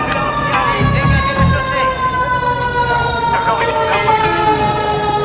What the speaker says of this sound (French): Voilà l'ambulance qui arrive